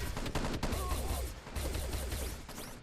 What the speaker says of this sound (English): There's a nade by Rowdy!